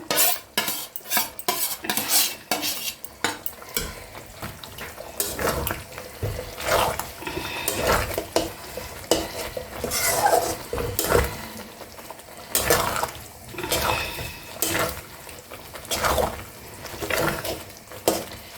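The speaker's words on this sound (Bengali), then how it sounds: "এবার আমি ভেজে রাখা চিকেনগুলো দিয়ে দিচ্ছি।" Fried chicken pieces are added to a pan of Mughlai chicken and stirred with a metal utensil, producing repeated scraping and clinking strokes against the pan alongside wet sizzling, close and irregular.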